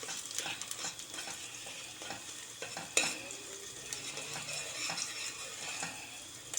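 Hot pepper paste is stirred into a lentil dish in a pan, with soft scraping strokes over a low sizzle and one sharp clink midway.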